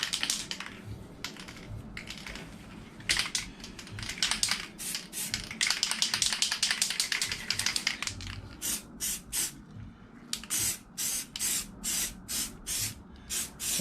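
Spray can applying a second coat of paint to a motorcycle wheel, with a steady hiss giving way to a rapid series of short, even bursts close by, no talking.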